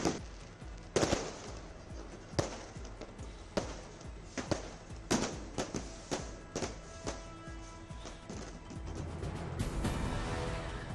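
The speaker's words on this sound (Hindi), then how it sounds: "आतिशबाजी का दिखा शानदार नजारा।" Fireworks at the Golden Temple during Gurpurab celebrations, a series of sharp bangs and crackling pops at irregular intervals, heard from a distance over a steady background murmur that thickens toward the end.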